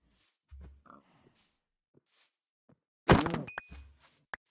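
Blocky thuds and low grunting hurt sounds as a cow is struck in Minecraft, a few short hits amid quiet game ambience and soft footsteps.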